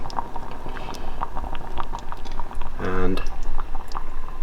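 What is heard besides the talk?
brisket birria broth bubbling in a pot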